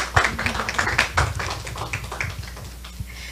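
An audience claps at a Brazilian short-film debate event honoring participants, a dense, uneven round of applause that is loudest at the start and tapers off, with scattered individual claps near the end.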